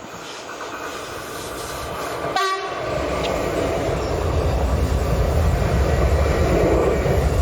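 A loud Swiss Crocodile electric locomotive rumbles past close by on the Gotthard north ramp, with a continuous roar of wheels and a brief sharp burst partway through, filling the whole stretch.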